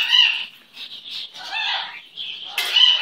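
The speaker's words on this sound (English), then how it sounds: "You are such a beautiful baby bird." A pet bird giving loud, shrill squawks and whistling calls close to the microphone, several bursts with brief pauses and a sharp rustle of wings near the end.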